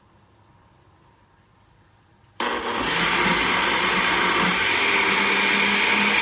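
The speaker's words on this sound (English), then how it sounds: "I'm gonna go ahead and start the blender. I'm just gonna blend it for about a minute." A blender whirs into life partway through, blending a flan mixture with a loud, steady motor roar that continues to the end after a quiet start. One brief spoken word comes just before it starts.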